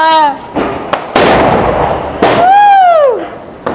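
Diwali firecrackers go off nearby as loud sharp bursts, some with rising and falling whistles, several blasts in quick succession during a family celebration.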